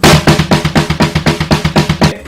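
A drum kit plays a blast beat alone, the double bass drum doubling the snare's time, one kick landing with each snare hit and one between, in fast, loud, evenly spaced strokes.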